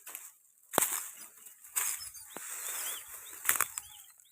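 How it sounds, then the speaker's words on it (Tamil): Birds flapping their wings and calling over a rural field, several sharp bursts of wingbeats and short chirps at close to mid distance, separated by brief quiet gaps, with no talking. "பறவைகள் சத்தம் அழகாக இருக்குது."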